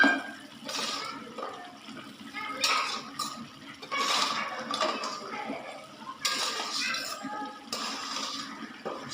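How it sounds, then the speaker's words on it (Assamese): Fried gram flour pieces are dropped into a bubbling curry with potatoes, producing splashes and clinks of a spoon against the pot in irregular bursts amid boiling water. "এতিয়া দিম ইয়াতে ভাজি থোৱা বেচনৰ টুকুৰাকেইটা।"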